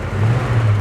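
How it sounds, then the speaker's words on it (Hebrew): A Ford Mustang's turbocharged engine hums and revs briefly with a low, throaty drone, close by and steady. "שומע מנוע? טורבו, 7 צ'ילינדר."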